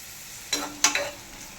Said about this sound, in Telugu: ఆనియన్ బాగా డీప్ ఫ్రై అయ్యే వరకు తిప్పండి